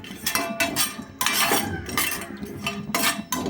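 Peanuts roasting in a pan for chutney, stirred with a metal spoon that rattles and clinks against the pan in close, loud bursts with short pauses between strokes.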